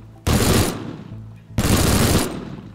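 Gunfire in the game Teardown: two loud, close bursts of rapid automatic fire, each about half a second to a second long, with a brief gap between them and no talking.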